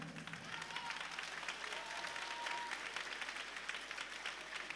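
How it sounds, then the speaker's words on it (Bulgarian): Concert audience at a folk ensemble performance applauds the concertmaster, a continuous, moderately distant patter of many hands clapping with no break. "Аплодисменти и за Пламен Духов,"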